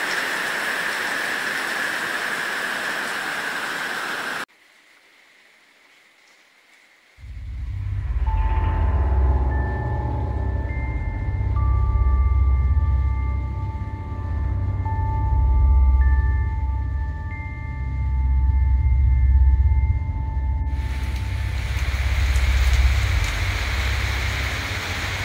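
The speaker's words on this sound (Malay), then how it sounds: "Hujan dekat luar tiba-tiba turun dengan lebat" Heavy rain pours down outside The Gap Rest House at night, a steady low rushing wash that swells and eases slightly, with faint high tones drifting over it, after a brief quiet gap.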